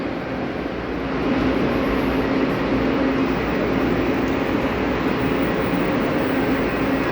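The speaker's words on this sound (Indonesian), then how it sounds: "kita menuju kereta api cepat Haramain menuju kota suci Mekah" A steady, even rumble with a faint hum from inside the Haramain high-speed train to Mecca, continuous and unbroken with no voices.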